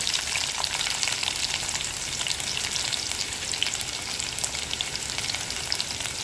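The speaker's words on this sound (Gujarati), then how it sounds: "રાઈ અને જીરું તતડી ગયા પછી આપણે એમાં ઉમેરીશું ઓનિયન, ડુંગળી," Diced onion and potato fry in a mustard seed and cumin tempering for Gujarati khichdi, giving a dense, loud, unbroken crackling sizzle close by.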